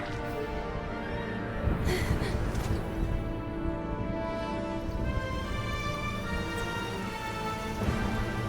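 Steady rain falls in the Genshin Impact video game, a dense continuous patter layered over a sustained musical drone, with a few brighter splashy bursts along the way.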